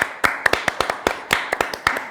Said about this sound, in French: Allez, on applaudit tous ensemble s'il vous plaît